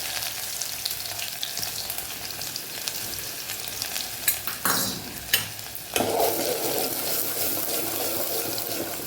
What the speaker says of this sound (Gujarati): ડુંગળીને આપણે સરસ સાતળી લેવાની છે।